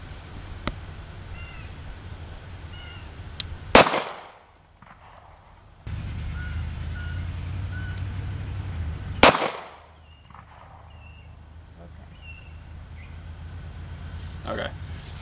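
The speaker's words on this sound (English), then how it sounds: "go ahead and fire when you're ready" Two sharp handgun shots at a firearm training range, several seconds apart, each a loud crack followed by a brief decay, with a steady background hum between them.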